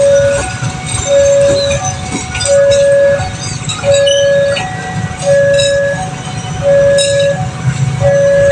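The Batu Raden Express passes straight through an Indonesian railway station, a loud close rumble of wheels and carriages with a repeating steady two-tone warning chime sounding over it at regular intervals.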